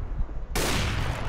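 Rapid burst of automatic gunfire in CS:GO, a dense sustained rattle that cuts in abruptly and stays loud to the end.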